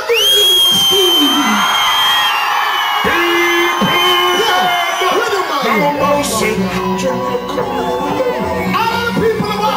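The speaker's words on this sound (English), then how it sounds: "let me hear you scream" Concert crowd at a show screams and whoops loudly and continuously, many voices rising and overlapping into a sustained roar, with a voice shouting over them.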